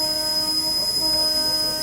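Steady interior rumble and hum of the Udhna Banaras Express running on main line track, continuous and even, with a constant high whine and no speech.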